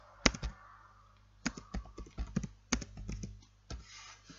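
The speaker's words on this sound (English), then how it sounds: "To modify an axis title, you just click on the axis title and you start typing." Keys clacking on a computer keyboard while an axis title is typed, in irregular bursts of sharp clicks with short pauses between them, close by and fairly quiet.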